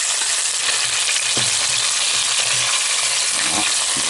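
Chicken pieces fry in hot oil for poulet yassa, a loud, dense, continuous sizzle and crackle close by with occasional stirring clatter and no talking.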